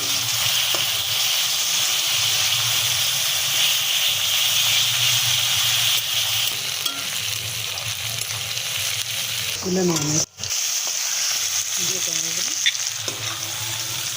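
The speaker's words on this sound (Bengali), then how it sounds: "ওই তেলেতে এবারে পেঁয়াজটাকে দিয়ে ভেজে নিচ্ছি" Onions frying in hot oil in a pan, giving a steady loud sizzle throughout. A few brief clanks of stirring and a short spoken remark break in near the end.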